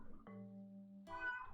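A pet cat giving a single drawn-out meow, quiet and somewhat close, in a late-night home setting with no talk over it.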